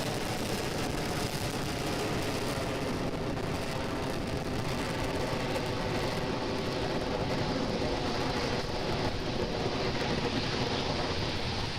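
Falcon 9 rocket's Merlin 1D engines roaring during ascent, a steady dense broadband rumble with crackling texture holding loud and unbroken throughout, with no voices.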